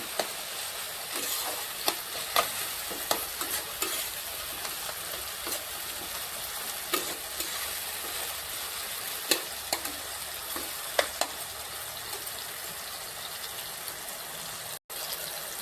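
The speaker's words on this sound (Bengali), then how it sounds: "এরপর আমি লঙ্কা দুটোকে দিয়ে দিলাম, দিয়ে আবার একটু নেড়ে নেব।" Two chillies fry in a pan and are stirred, with a constant soft sizzle broken by occasional spatula taps and scrapes, close up and without speech.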